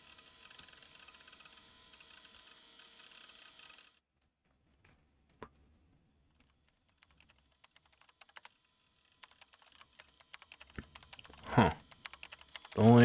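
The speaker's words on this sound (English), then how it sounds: "The only sound present in the room was the distinct clacking of a keyboard." Keyboard clacking as a visual novel sound effect: a steady run of light typing clicks at first, then scattered taps and louder clatter toward the end.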